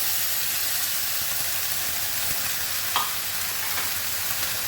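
Banana stem (thor) frying in a pan with onions, a dense, even sizzling hiss close by with a brief clink of a utensil, no voices.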